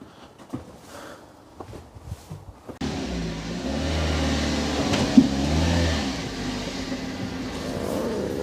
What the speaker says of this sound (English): And then we'll get the car driven up onto the ramps.